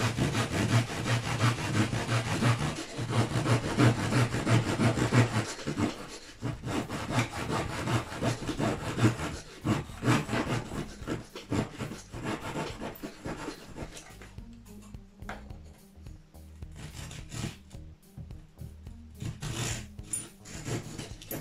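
A small wooden part for a Fokker Dr I model being sawn out by hand, with steady back-and-forth rasping strokes, close and continuous, thinning into lighter, more intermittent strokes toward the end.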